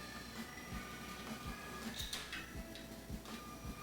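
A small toy train zooms along its track, with quiet, evenly spaced clicks of wheels over the rail joints beneath a soft mechanical whir and a few faint squeaks.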